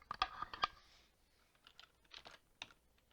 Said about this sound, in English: I'm going to type in what I want.